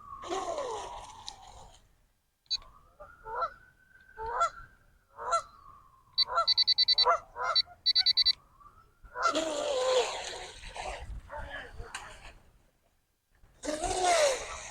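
Geese honk repeatedly, loud and near, beside a J&R Marine H17 RC hydroplane boat on the water, with several bursts of harsh calls in an uneven rhythm and short quiet gaps between them.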